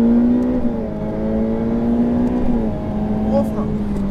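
A Ferrari F8 Tributo accelerates on the Fontenay-le-Comte racing circuit, its engine holding a loud, steady close-up drone from inside the car as a voice talks over it.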